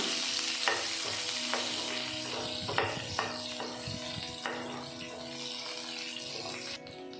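Onion and chana dal fry in oil for tomato chutney, giving a lively crackling sizzle close by, with repeated scraping and stirring knocks against the pan that gradually settle into a softer hiss.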